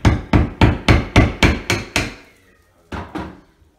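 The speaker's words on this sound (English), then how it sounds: "take your drywall saw, get it started with a tap from your lineman pliers" A drywall saw being started into drywall with taps from lineman pliers: a quick series of seven or eight loud, close knocks, a pause, then two or three more.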